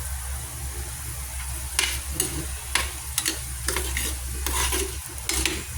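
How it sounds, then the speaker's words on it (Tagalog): Potatoes frying in oil in a pan for chicken curry, a steady sizzle with occasional sharp clinks and scrapes from stirring, close and moderately loud, with no talking. "So, pinaride muna natin ang ating patatas. Ayan, fried lang muna tayo."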